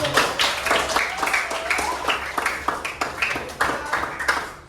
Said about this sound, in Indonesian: Beri tepuk tangan untuk kelompok 7